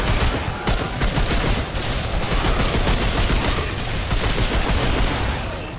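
Sustained gunfire in the shooter Remnant 2 fills the whole stretch as a dense, loud, continuous barrage of rapid shots, with no pauses and no talking over it.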